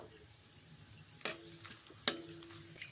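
Whole spices, dry red chillies, cardamom and white cumin, fry softly in a pan, a faint low sizzle under light stirring with two sharp scraping clicks of the spoon against the pan.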